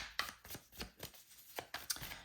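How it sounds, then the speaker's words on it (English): Oracle cards being shuffled by hand, a series of quick papery riffles and taps in an irregular rhythm, close and fairly quiet, with no talking. "I always shuffle until the cards pick themselves, or till Spirit picks them for me."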